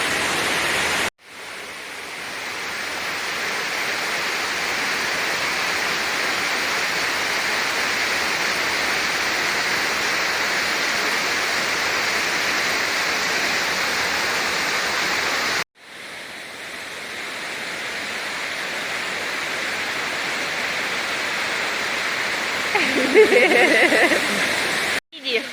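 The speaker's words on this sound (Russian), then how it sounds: "Пришли к Дзыхринскому водопаду, Дзыхринский каньон." Dzykhra waterfall in the Dzykhra canyon roars as a steady, loud, unbroken rush of falling water, close and continuous, interrupted only by two short cuts.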